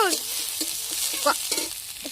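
Crab pieces, caught from a fishery in the Sundarbans, fry in oil with turmeric and a little water in a wok, a steady close sizzle broken by stirring scrapes and soft clatters, with faint talk at moments.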